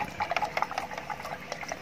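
Water being stirred in a small jar for keeping betta fish, quick close sloshing and bubbling splashes in an uneven rhythm, fairly soft.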